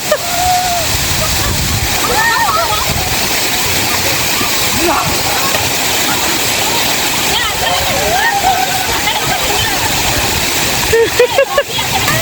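Water pouring down a waterfall makes a loud, steady broadband roar through the whole stretch. People's voices come and go over the rush, with a few sharper splashes near the end.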